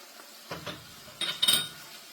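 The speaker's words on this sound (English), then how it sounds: "Continue to stir everything" Quiet clinks and scrapes of a spoon against a cooking pot as dirty rice ingredients get stirred, a few short metallic knocks in brief clusters.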